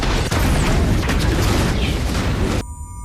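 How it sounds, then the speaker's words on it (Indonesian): A loud, roaring explosion in a film scene, a dense broadband blast that sustains for a few seconds before cutting off sharply into a quieter tail. "Namun sebelum perundingan selesai, ledakan pun terjadi"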